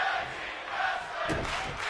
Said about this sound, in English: The crowd is chanting tag team wrestling.